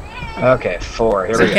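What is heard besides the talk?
cat meowing while being patted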